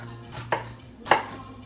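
Two crisp knife strikes on a cutting board, spaced about half a second apart, as seasonings such as onions are chopped; close and clear over a low steady hum.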